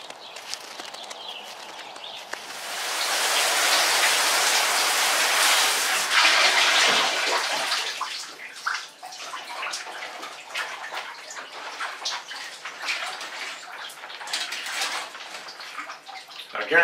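Cold shower water runs and sprays close by, swelling into a loud broad hiss for several seconds before easing back to a softer, uneven splatter.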